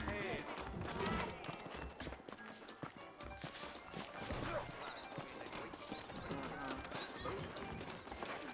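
Steady rhythmic clip-clop of horse hooves with occasional whinnies, under continuous talking and background game sound, in the video game Red Dead Redemption on Nintendo Switch.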